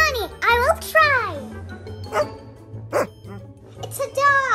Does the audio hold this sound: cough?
no